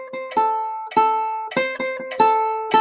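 A ukulele strums a rhythm pattern in clear, bright strokes, grouped in uneven beats of three and two, close and alone without talk.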